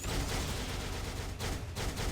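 An explosion from an Iron Man skill in the mobile game Marvel Future Fight: a dense, crackling burst of blasts and fiery rumble filling the whole moment, loud and continuous with brief dips.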